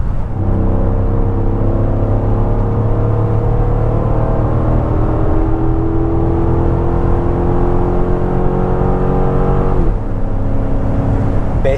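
Chrysler 300C 6.1 SRT8 accelerating hard on a nearly flat road, a loud, steady engine roar with rising harmonics climbing through the gears, a brief shift dip near the end, then continuing to pull.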